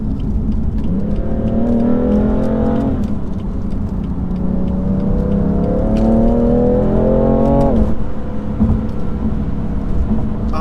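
A 2018 BMW M3 Competition on the road, its engine rising in a strong pull, dropping at a shift, then climbing through two more long surges before easing off, loud and close throughout.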